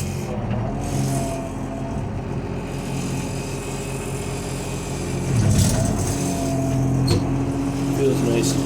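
A Cat D4 bulldozer idles steadily up close with a smooth, even diesel rumble, swelling slightly louder about midway through as the engine load picks up.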